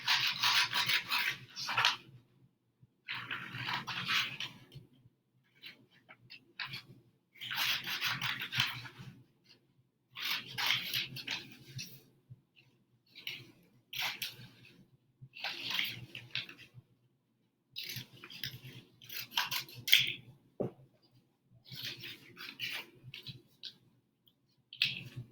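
Scissors cutting out a paper shape, repeated bursts of crisp snipping and rustling separated by short pauses, close and clear with no voices.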